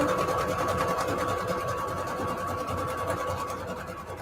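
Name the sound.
sewing machine stitching cardstock scrap paper at widest setting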